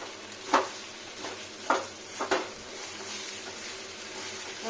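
Chicken kosha with onions and boiled potatoes being stirred and fried in a pan: a low sizzle under a few distinct clanks of the spatula against the pan, close by.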